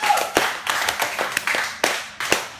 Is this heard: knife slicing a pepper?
no